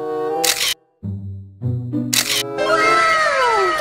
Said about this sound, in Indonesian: Wow, kita selfie Marsha